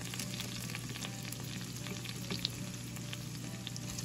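Shallots fry in olive oil and butter in a hot pan with an even, close sizzle, light crackling pops and one sharp tap of a utensil near the middle, over a steady low hum.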